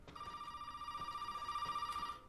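An electronic telephone rings in Resident Evil Biohazard, one sustained trilling ring of about two seconds, clear and fairly loud with no talk over it.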